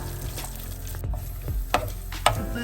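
Cashews, almonds and raisins fry in ghee in a pan, giving a low steady sizzle with a few soft stirring scrapes and taps, close and quiet, no talking.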